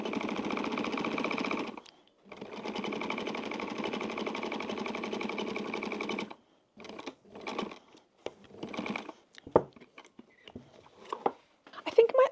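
A 70-year-old Pfaff sewing machine stitches a wallet pocket in two long, steady, whirring runs separated by a brief pause. Shorter bursts and clicks follow, and a person speaks now and then.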